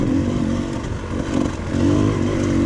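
Engine of an enduro dirt bike drones steadily, loud and close, as it is ridden on a hard enduro race course over soft dirt, rocks and branches, with faint rattles and scrapes over the continuous roar.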